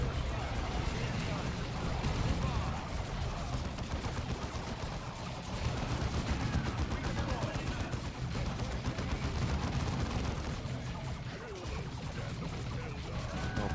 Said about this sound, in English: We're shooting loud as fuck guns.